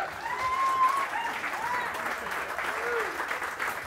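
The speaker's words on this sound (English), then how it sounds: "Please give a nice round of applause to Travis McIntosh." Sustained studio-audience applause welcomes podcast host Travis McElroy onstage, a steady wash of clapping at moderate level that continues for a few seconds without letting up.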